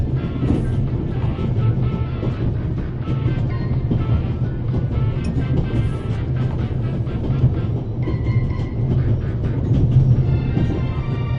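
Steady rumble of a train running, a continuous low rolling drone with faint rattles and clicks layered above, constant and fairly loud throughout.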